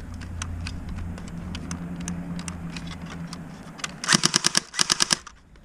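Battery-powered UK Arms AK-47 airsoft gun firing on automatic in two quick, loud bursts of rapid clicking shots near the end, after a stretch of quieter handling noise and background hum.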